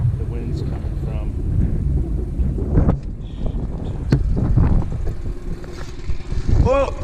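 Gusty wind buffets the microphone on an inflatable boat out on open water under worsening weather, with loud rumbling bursts that rise and fall and some voices in between.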